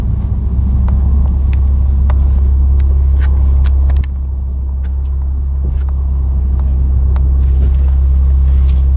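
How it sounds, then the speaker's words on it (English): A 2020 Toyota Supra making a pass down a drag strip, heard from inside the cabin as a loud, steady low engine rumble that holds for the whole stretch with a brief shift in tone partway through. "First Supra, 2020 Supra down the drag strip."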